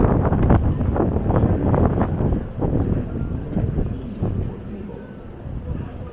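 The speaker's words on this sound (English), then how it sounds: "So, the wind." Wind buffets an outdoor microphone on a Bogotá street, a continuous low rumble rising and falling in gusts, loud and close, mixed with brief bursts of talk.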